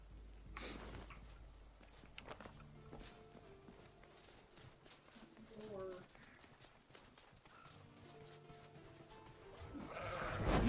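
Sheep in the survival game Runescape Dragonwilds bleat a few times amid game footsteps and background effects, the calls fairly faint and brief within a busy mix.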